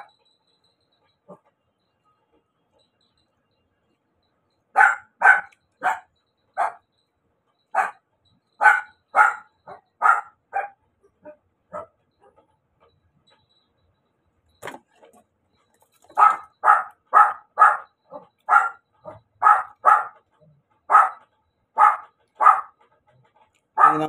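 A dog barks loudly and close by in two long volleys of sharp, evenly spaced barks, separated by a stretch of near silence, with a few isolated yelps at the start.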